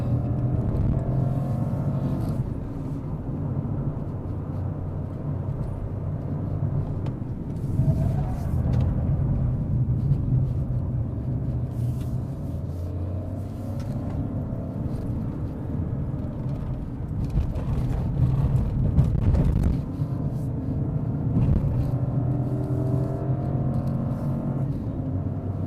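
A Peugeot 2008 with a 1.2 liter turbo engine climbs a hill road, its engine and tyres making a steady, loud rumble heard from inside the cabin, with brief swells where the revs change.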